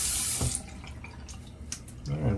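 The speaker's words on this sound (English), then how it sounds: "Get some fresh warm water in there." Warm water runs from a tap into a small shaving tub, a soft splashing stream that fades, then swells again, with a low voice murmuring faintly underneath.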